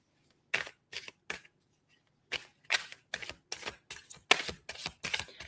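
A deck of tarot cards is shuffled in about a dozen quick riffling bursts, close and crisp, with brief pauses between groups and no talk.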